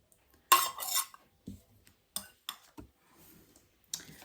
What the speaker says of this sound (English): we're just going to mix now the shortening into this flour mixture